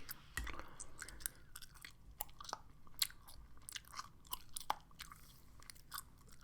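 Gum chewed close to the mic in steady wet smacks and crackly snaps, loud and continuous with no pauses, intimate and crisp.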